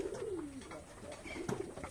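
A pigeon coos softly nearby in a couple of low, rolling calls at a village pigeon farm, with faint ambient noise around it.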